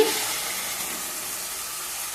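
Ground masala paste frying in oil with onions and tomatoes for a brinjal curry, a steady soft hiss of sizzling with no talk.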